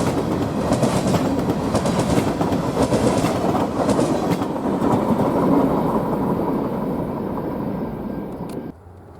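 A T1X Wisconsin & Southern freight led by two yellow SD60M diesel locomotives races north at night on a Chicago line, a loud close rumble with rhythmic clickety-clack that cuts off abruptly near the end.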